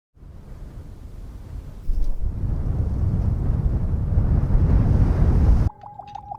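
A broad, steady wind rush in the video game Stack O'Bot swells after a soft start and holds as a distant, spacious roar, then cuts off abruptly and leaves a faint high tonal pulsing.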